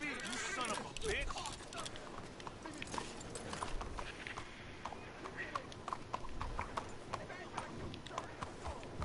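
Horse hooves clip-clop at a walking pace in the Red Dead Redemption 2 game, a steady run of close, clear hoof hits that comes out over background sound and speech.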